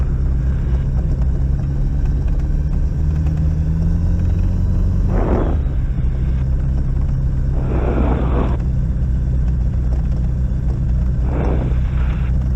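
A motor glider's engine drones steadily while taxiing, a constant close low rumble, with a few brief bursts of broadband noise rising above it.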